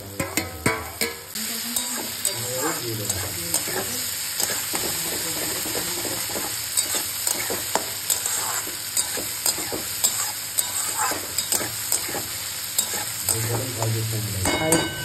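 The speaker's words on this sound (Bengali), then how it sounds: "ক্যাপসিকামগুলো একটু নেড়ে চেড়ে তারপর মানে টমেটোগুলো দিয়ে দেবো" Capsicum is stir-fried in a pan under a constant sizzle, with frequent sharp scrapes and clacks from a spatula moving it around, close and continuous.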